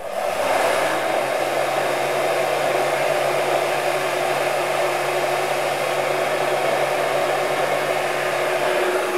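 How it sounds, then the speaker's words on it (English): A heat gun warms up before heat staining copper, blowing with a steady loud whirring hiss and a constant motor hum that runs unchanged throughout. "I'm going to preheat the heat gun and put on my gloves"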